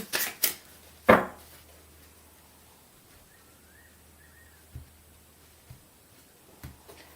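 A few quick riffles of a tarot-style card deck up front, then faint soft taps and near silence with low background hum.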